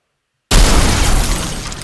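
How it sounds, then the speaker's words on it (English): A video game explosion effect played when a spider enemy is destroyed bursts in abruptly after half a second of silence, loud and broadband, then sustains as a roaring, crackling blast that slowly tapers. "Destroyed explosion. This is when you destroy the spider."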